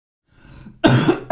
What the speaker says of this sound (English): cough attack or something like that